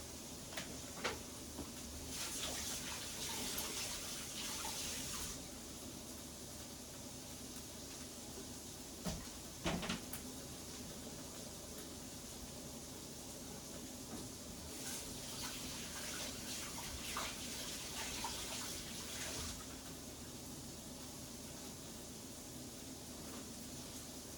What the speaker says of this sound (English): Wash that knife straight away